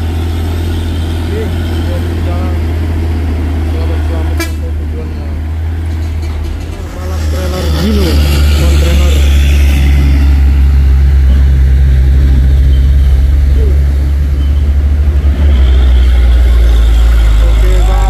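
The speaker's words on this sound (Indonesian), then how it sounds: "satu nih truk tangki CPO dan satu trailer Isoteng" A CPO tanker truck and a trailer pass on a road, heavy low engine rumble loud and close throughout, swelling as the vehicles go by, with traffic noise around.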